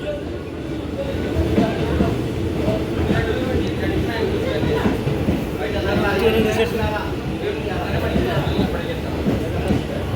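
A low, continuous rumble and rattle of a moving train, with faint rhythmic clacking and people talking over it nearby.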